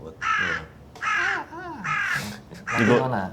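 Crows cawing in a new housing town, several loud, harsh calls repeating in bursts about every second, close and clear with no talking.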